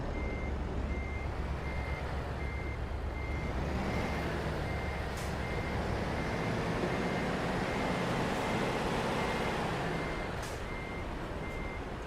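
A heavy truck in Euro Truck Simulator 2 reverses a rear-steer trailer, its reversing beeper pulsing steadily above a constant low engine drone for the whole stretch, loud and close with no talk.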